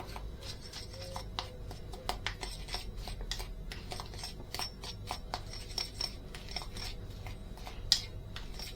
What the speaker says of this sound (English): Now we just give it a little mix it all together